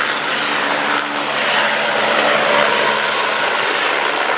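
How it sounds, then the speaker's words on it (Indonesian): A loud, steady rotor-and-engine roar of a helicopter, close and continuous with no talk over it. "Ini helikopter."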